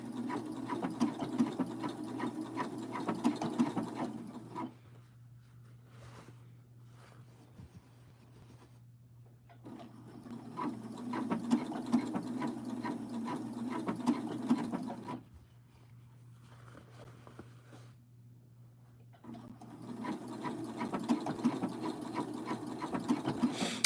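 A sewing machine runs in three long bursts while hemming a pair of pants, each steady whir lasting several seconds, separated by quiet pauses of handling the fabric, heard up close.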